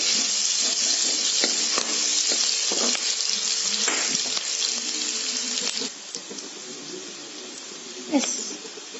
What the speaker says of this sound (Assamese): এইখিনি ৰঙচুৱা হোৱালৈকে ভাজিলোঁ।